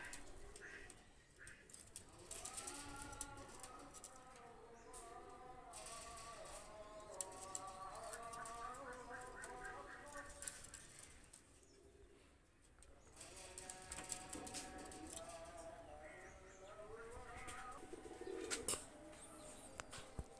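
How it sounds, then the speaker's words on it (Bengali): Pigeons of the Oman 128 breed coo in soft, overlapping warbling calls that repeat throughout, faint and fairly close, over a quiet background. "এক পেয়ার রুমান একশো আঠাশ কবুতর নিয়ে আসলাম"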